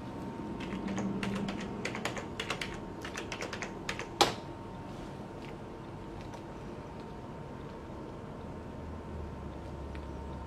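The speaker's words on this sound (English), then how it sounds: "let me just type in my password here" Keys tapped in quick bursts on a computer keyboard while a password is entered, close and moderately loud over a steady room hum, ending with a sharper final keystroke before the clicking stops.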